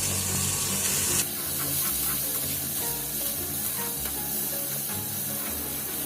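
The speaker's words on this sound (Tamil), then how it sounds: "இது கூட வெட்டி வச்சுருக்க வெங்காயம் அதுவும் அது கூட சேர்த்து நல்லா வறுத்துக்கணும்." Chopped onions hit hot oil with popped mustard seeds and cumin for kuzhipaniyaram, bursting into a loud hiss that settles into a steady close sizzle with light stirring.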